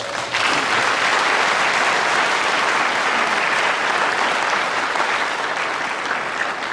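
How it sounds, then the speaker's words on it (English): Audience applause at a university chancellor's inauguration ceremony: dense, steady clapping from a large crowd, starting sharply and holding at full strength throughout. "say a round of applause to all of them"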